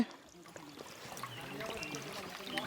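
Stream flowing down from Napittachhara waterfall in Mirsarai, Chattogram, a steady close rush and trickle of water over rocks, with people talking over it.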